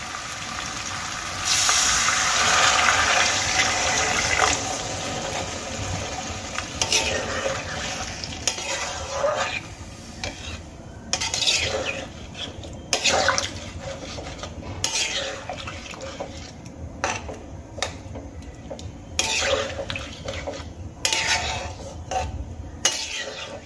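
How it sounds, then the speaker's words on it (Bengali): Water poured into a pan of fried potatoes and spices for aloo dum, a loud rush and sizzle at first, then repeated scraping and stirring clatter of a spoon against the pan over a low simmer. "এবার আমি এর মধ্যে দিয়ে দেবো পরিমাণ মতো জল"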